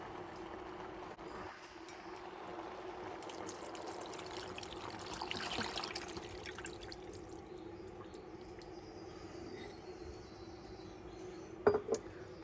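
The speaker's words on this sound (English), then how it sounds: "now we're going to add our broth or water." Beef broth pours from a carton into a stock pot of short ribs for French onion soup, a steady soft liquid stream running for several seconds with a brief louder splash near the end.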